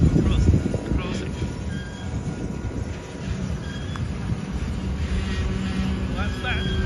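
A train rolls slowly along the Spiral Railway tracks at Field, BC, a low rumbling clatter of wagons with occasional faint wheel squeals, steady and fairly near.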